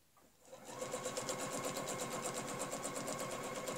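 A sewing machine stitches a quilted rope border along a ruler, starting up after a brief pause and then running in a fast, steady mechanical chatter, close and even.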